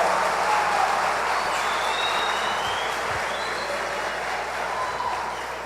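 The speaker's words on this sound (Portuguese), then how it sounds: "Dê para Jesus uma forte salva de palmas." A church congregation gives a strong round of applause during a Portuguese-language sermon, a broad, even roar of clapping from a large crowd with a low hum underneath, continuing without speech.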